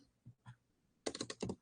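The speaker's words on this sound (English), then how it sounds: "Let's type it in the correct box here." Keystrokes on a computer keyboard come in a quick, close burst of about eight clicks after a near-silent pause with a couple of faint taps.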